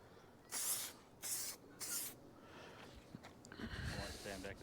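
Short hissing bursts of an aerosol spray of car guard sound in three even pulses, with pauses between them, as light coats go onto a car. Quieter handling noise and faint rustling follow.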